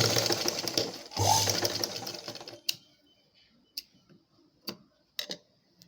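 A sewing machine stitching a blouse runs in a fast, continuous whirring rattle for about two seconds, then stops, leaving a few sharp isolated clicks and taps in quiet surroundings.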